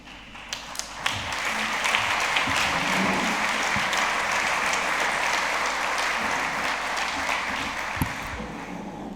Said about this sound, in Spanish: pues un aplauso para el señor Illa.